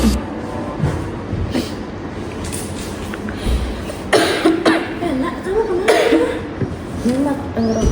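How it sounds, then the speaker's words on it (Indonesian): A child with a chesty cough and cold coughs several times, wet and short, with some chuckling and murmured voices mixed in among quiet background noise. "Anak tersebut mengalami batuk berdahak dan pilek selama 2 hari terakhir"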